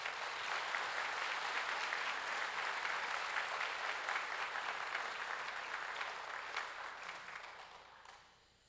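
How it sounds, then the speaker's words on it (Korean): A church congregation applauds to welcome Pastor Son Kyung-il to the pulpit, a thick, even wash of clapping that holds steady and then fades out toward the end. "우리 목사님 등단하실 때 큰 박수로 우리 환영하겠습니다."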